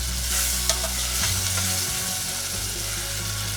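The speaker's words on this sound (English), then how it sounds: "stirring it." Green pepper frying in a pan and being stirred, a loud close sizzle with spoon scraping and a few clinks, no voices.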